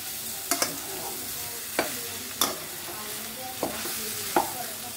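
Pork curry sautés in a pan with a steady sizzle, broken by a few sharp scrapes and knocks of a spoon stirring the thick masala.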